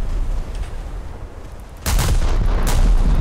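Naval gunfire in the War Thunder video game: rumbling low engine-like background, then heavy booming cannon blasts, two prominent shots with a sustained loud roar after the first, no talking.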